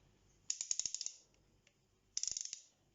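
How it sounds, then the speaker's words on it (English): Two quick bursts of close, crisp ratchet clicks from a King Dick elbow torque wrench with a socket fitted, each a rapid run of about eight sharp ticks, separated by a quiet pause. "It's very nice ratcheting action."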